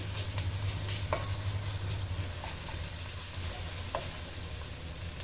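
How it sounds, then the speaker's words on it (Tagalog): Onions and garlic sauté in a pan for a patola and corn soup, giving a steady, close sizzle with a low hum underneath and a few faint stirring clicks. "Palambutin ko lang ng konti yung aking sibuyas at ilalagay ko na rin yung aking bawang next"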